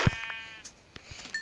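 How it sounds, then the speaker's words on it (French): Sheep bleating in Minecraft, a short nasal bleat close up at the start followed by softer game sounds, with no talking. "il y a un mouton, je vais tuer le mouton, comme ça j'aurai sa laine"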